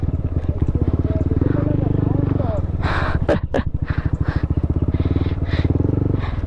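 Lowered, stance-modified motorcycles ride past close by, their engines throbbing loudly and rising in pitch as they pass, with voices heard over the engine noise.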